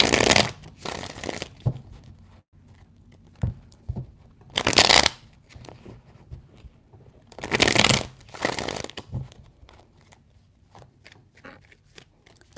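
Tarot cards are shuffled in several loud riffling bursts separated by quiet pauses, heard close up with no speech over them.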